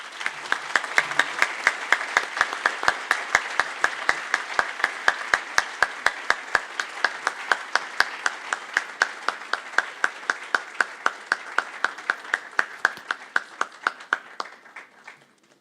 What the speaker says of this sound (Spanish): acompañado de un aplauso de todos nosotros